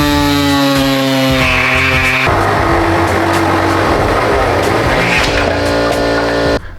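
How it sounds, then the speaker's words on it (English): A power tool cuts out the spare tire pan of a Datsun 240Z, a loud, continuous grinding whine that holds steady for nearly the whole stretch before stopping abruptly at the end. "So I think we're gonna have to cut that entire thing out"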